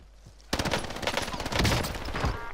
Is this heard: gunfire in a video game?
yes